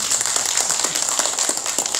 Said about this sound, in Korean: 이때 박수 한번 주세요.